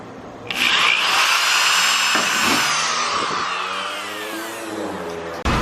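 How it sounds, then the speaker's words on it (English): A power tool setting rivets during a widebody install on a Honda S2000 whines loudly and steadily for several seconds, with its pitch gliding down as it loads, then cuts off abruptly, close up with no talk. "right now we're doing the rivet set"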